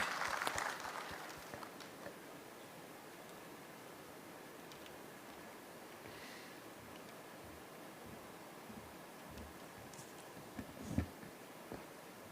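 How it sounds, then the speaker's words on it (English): Faint, distant applause from a conference audience greeting a keynote speaker at a CFO conference, heard as a steady, hissy wash of clapping with no distinct claps standing out. "So please, a big round of applause for Mr. Anis Ahmed, our keynote speaker."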